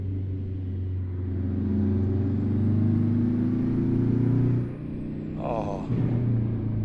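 A truck engine drones and rises steadily while driving through Moab in American Truck Simulator, a loud continuous rumble with a pitch sweep, then dips before a brief burst near the end.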